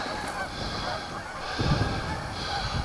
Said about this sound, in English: geese collected there,